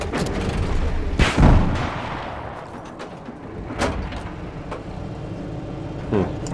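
Zuni rockets launched at a vehicle in the Battlefield 4 video game, a few loud sharp blasts and impacts spaced apart over a rumbling battlefield background.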